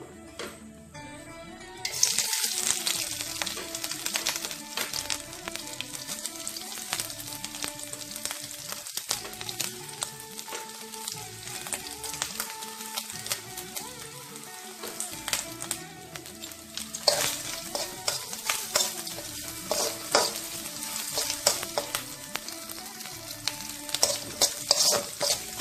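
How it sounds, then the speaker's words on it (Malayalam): Coconut pieces fry in hot ghee for a Vishu nendran banana and broken wheat pradhaman. A steady close sizzle runs for about twenty seconds, with repeated scraping and stirring of a spoon against the pan. "നെയ്യ് ചൂടായിട്ടുണ്ട്, നമുക്ക് ഇതിലേക്ക് തേങ്ങാക്കൊത്ത് ആഡ് ചെയ്യാം."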